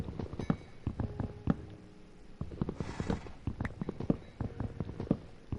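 Blocky hoofbeats of Minecraft horses clop in short irregular clusters, fairly close, with soft game background between steps and no talking.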